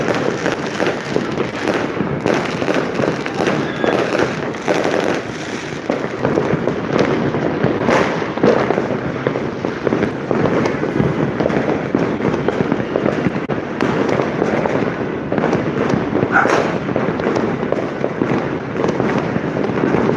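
New Year fireworks burst nonstop for the full stretch, a dense, loud barrage of crackling pops and booms with no pauses and no voices.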